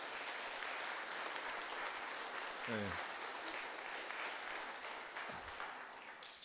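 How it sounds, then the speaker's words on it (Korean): A church congregation applauding a couple, sustained broad clapping from many hands with a brief spoken word from the pastor partway through. "박수하도록 하겠습니다"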